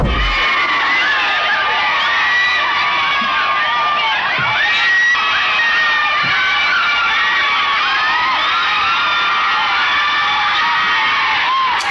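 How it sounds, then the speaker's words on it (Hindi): A large crowd in rainy London in 1931 shouts and cheers while awaiting Mahatma Gandhi, with many overlapping excited voices and whoops holding at a loud, continuous level throughout. "यकीन न हो तो ये चिल्लाने की आवाजें सुन लीजिए"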